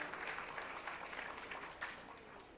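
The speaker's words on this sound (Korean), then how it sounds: "다시 한번 박수 부탁드립니다." Applause from guests at a Korea–US alliance conference gala dinner, a soft, distant, even patter of many hands clapping that holds steady throughout.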